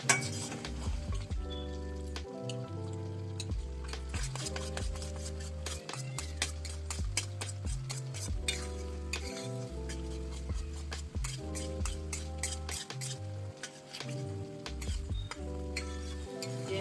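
Wheat flour sheera stirred round and round in ghee in a kadai, with soft clinks and scraping of a spoon against the pan carried under steady, loud background music throughout.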